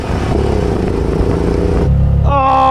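Engine of a three-wheeler car at a drag race start: a steady, loud buzzing drone that cuts off abruptly, then a higher whining tone rises as another engine revs nearby.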